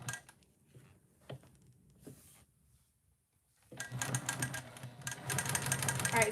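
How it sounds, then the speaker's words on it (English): A sewing machine basting the back of a fabric panel to foam for a heart bag: a few faint clicks and a pause, then a sudden run of fast, steady mechanical stitching close by. "so I'm just basting the back of the panel to foam now"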